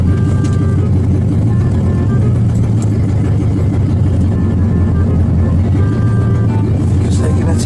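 A large monster truck on 66-inch rims rolls past with a loud, steady, deep engine roar and rumble that dominates throughout, with crowd noise and voices mixed underneath.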